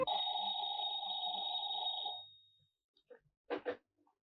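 Telephone ringing, a steady two-tone electronic ring lasting about two seconds and then cutting off, followed by a few soft clunks and handling knocks, close and otherwise quiet.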